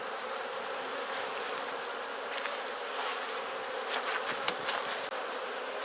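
Honeybees swarm over the frames of an opened Langstroth beehive, their dense, continuous buzzing filling the air close by, with a few louder passes of individual bees near the end and no talk.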